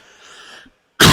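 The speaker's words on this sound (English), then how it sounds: "there's some bad coughing going on" A single loud, close cough bursts out abruptly at the end, following a faint, steady tonal hum and a moment of near silence.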